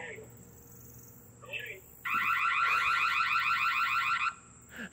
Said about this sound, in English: He just turned on that alarm to scare me.